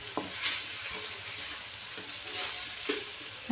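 Tomatoes sizzling in a hot pan with onions for ginisang ampalaya, steady close frying hiss broken by a few soft scraping stirs, no voices.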